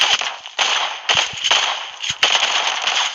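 Rapid bursts of gunfire in the PUBG Mobile game: loud, sharp cracks in quick clusters across a few seconds, close and harsh, with no talk over them.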